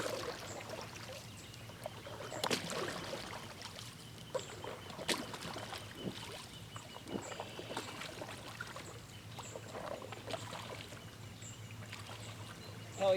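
Soft paddle strokes move an AIRE raft across a calm lake, with faint, irregular watery swishes and trickles over a quiet outdoor background.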